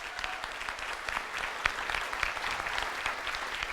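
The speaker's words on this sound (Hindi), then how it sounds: "मैं चाहूंगा एक बार हमारे सभी ग्रेट अपलाइन के लिए एक बार जोरदार ताली बजा दीजिए।" An audience applauds loudly at a gathering in honour of the senior uplines, steady dense clapping with a few sharper peaks running throughout, with no talk over it.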